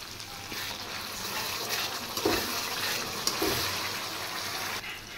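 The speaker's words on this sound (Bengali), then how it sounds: "এবার আর একটু আমি পুরো মশলাটা ভালো করে কষিয়ে নেব।" Masala spice paste with salt and turmeric being sautéed and stirred in a pan, a continuous close sizzle with a couple of louder scraping strokes of the spatula, no speech.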